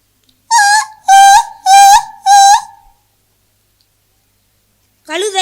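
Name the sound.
child imitating an injured dog whimpering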